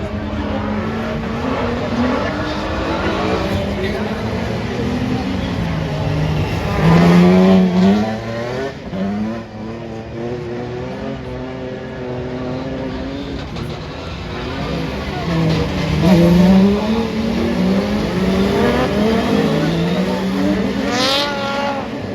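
Rallycross race cars in a Division 3 final at Faleyras, France, braking hard and accelerating in turn, engines rising and falling in pitch over a continuous roar, with a commentator talking over the action.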